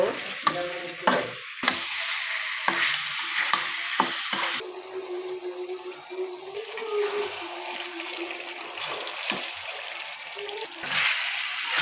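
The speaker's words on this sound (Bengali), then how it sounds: "আমি নেড়ে চেড়ে নিব" Meat curry with garam masala, turmeric, chili powder and salt is stirred in a pan: a low, even sizzle under scraping and clanking from a spoon, with a few louder knocks at the start and end.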